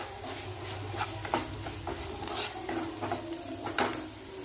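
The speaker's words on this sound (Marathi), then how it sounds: "आता हे तेलामध्ये भाजून घेऊया थोडंसं" Ground spices such as red chilli powder, turmeric and garam masala fry in oil in a pan, giving a steady low sizzle broken by scraping stir strokes and a few soft clinks near the end.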